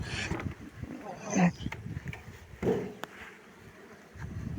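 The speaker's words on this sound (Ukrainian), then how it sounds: "От наш рій." A swarm of honeybees at an apiary, being settled into a hive, gives a low, diffuse buzzing close by, with a voice murmuring and a couple of brief handling knocks over it.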